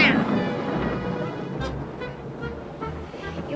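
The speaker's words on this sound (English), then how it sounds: "It was thunder and it scared the horse." Deep rolling thunder rumbles through a cloudy, cold outdoor scene by train tracks, a low sustained roar with a swelling crash midway, fairly loud and unbroken.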